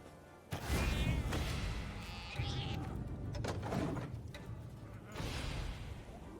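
Cat meow sound effect triggered as a cat card is played in the Gwent card game, a few loud, close, drawn-out mewing calls over game interface sounds.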